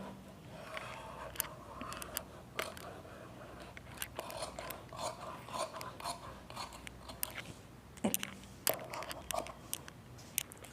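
Scissors cut through blouse cloth for a double-layer umbrella-sleeve blouse, giving a series of close, crisp snipping and rasping strokes in irregular bursts, with quiet pauses between cuts.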